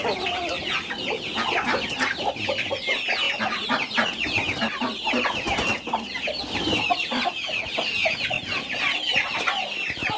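Thalassery native chickens in a coop make dense, overlapping clucking and murmuring calls, close and continuous, with no one speaking.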